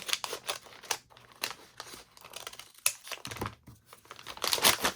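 Scissors snipping through a paper bag during junk journal crafting, with bursts of crinkling and tearing paper between quieter pauses, close and fairly soft.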